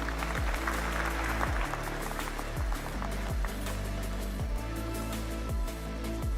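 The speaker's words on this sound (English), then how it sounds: "And the applause track." A canned applause track plays on a livestream: continuous crowd clapping, even and sustained for several seconds, layered over a looping low-pitched background music beat.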